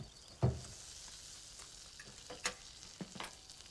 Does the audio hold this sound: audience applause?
no